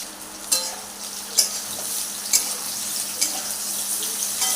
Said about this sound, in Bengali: এইভাবে নেড়ে চেড়ে খুব ভালো করে ভেজে নিচ্ছি